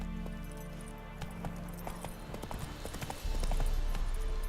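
Hooves of Roach, the horse in The Witcher 3 on PS5, clop in a quickening rhythmic beat over game ambience, ending in a louder surge of movement.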